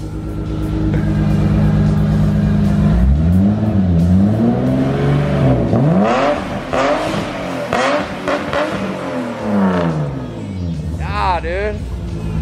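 A BMW E30 fitted with a cheap exhaust is revved repeatedly after a cold start, the engine note sweeping up and dropping back several times, loud and raspy, with people talking over it.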